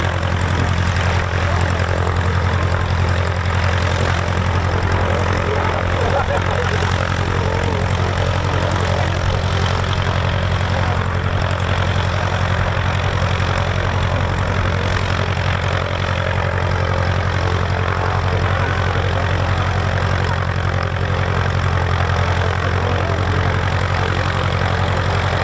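Avro Lancaster bomber Just Jane at East Kirkby runs its four propeller engines during a taxi run, a loud continuous droning rumble with a deep throbbing low end that holds steady throughout.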